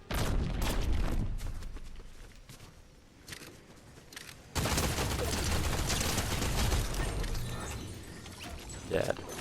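Bursts of gunfire from a Fortnite match: rapid, clustered shots in the opening seconds, then a denser, sustained barrage from about the midpoint onward, loud and near, with speech over it.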